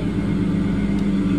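Toyota GT86 engine revving in the Assetto Corsa racing game, a loud sustained throaty engine drone held steady at close range with no speech.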